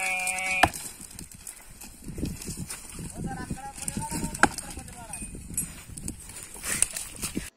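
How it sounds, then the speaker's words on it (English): Sheep bleat a few times amid an outdoor farm-like background with other animal noises, the calls moderately close and wavering. "Sheep."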